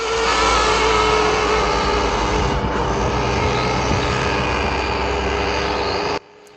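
Small nitro-powered model car engine running very rich during break-in, a loud, steady, buzzing whine held close up that cuts off abruptly near the end.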